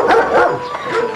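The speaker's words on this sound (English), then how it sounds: "Dogs for security, Hailu?" A dog gives a few quick, close yips and barks in a short, excited burst, some with a whiny edge.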